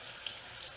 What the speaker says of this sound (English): I run it under water while I just rub the knife over it.